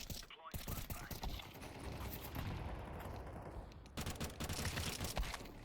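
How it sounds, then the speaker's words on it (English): Video game gunfire crackles in dense, rapid bursts with a flashbang deployed, a continuous busy barrage with sharp transients and a brief gap near the end before firing resumes. "Deploying flashbang."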